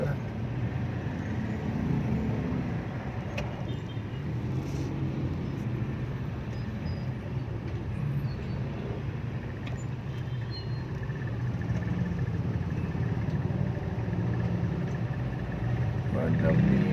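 Congested road traffic in the Philippines with cars, trucks and motorcycles idling and creeping along, a steady low rumble with occasional hisses and louder passing engines while someone talks over it.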